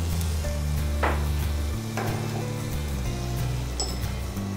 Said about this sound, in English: We'll turn the heat to low, and I'm going to add in the yogurt